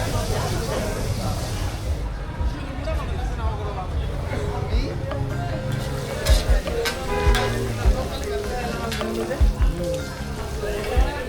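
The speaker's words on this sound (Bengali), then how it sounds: "আমাদের মাছ ভাজা প্রায় শেষ সব কিছু রেডি" Hilsa fish fry in a pan at a riverside eatery. The close, continuous sizzle is joined by occasional utensil clinks and knocks, while voices talk over it throughout.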